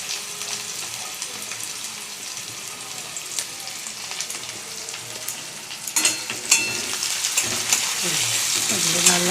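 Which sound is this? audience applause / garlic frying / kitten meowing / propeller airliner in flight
garlic frying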